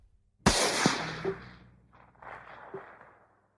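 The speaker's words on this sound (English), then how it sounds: "the people in the next house heard a gunshot" A single sharp gunshot cracks out suddenly, followed by a few fainter knocks and a trailing rumble that fades over a couple of seconds, with no voices.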